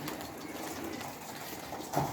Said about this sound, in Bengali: এই যে আমাদের কবুতর একটা নর ওকে ডাকতে চলে গেছে, অলরেডি ডাকতেছে।